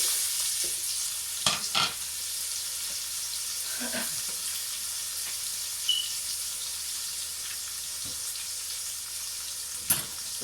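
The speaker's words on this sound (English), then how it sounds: "I'm going to pop your onions in and then half a teaspoon of salt as well" Onions frying in a pan over medium heat with a pinch of salt, a soft steady sizzle broken by a few sharp clicks and knocks of a utensil, close and fairly quiet, with no talking.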